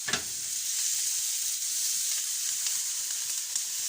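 Okra curry sizzling in a pan as it is stirred, a continuous bright frying hiss with faint scraping of the spoon, close and steady without speech.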